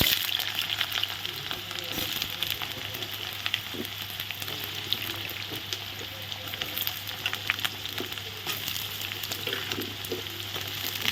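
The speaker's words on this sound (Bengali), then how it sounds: "তেলের মধ্যে এখন প্রথমে আলু ভেজে আলুগুলো আমি একবারে ভেজে নেব" Potatoes frying in hot oil in a pan, a continuous close crackling sizzle with occasional stirring scrapes and a low steady hum underneath.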